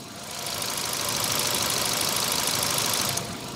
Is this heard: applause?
no